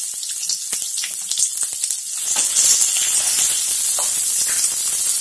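Sliced large onion hits hot oil in a pan for Tamil-style aval upma, bursting into loud, bright sizzling after a couple of seconds of lighter crackle and hiss, then holding steady, no voices.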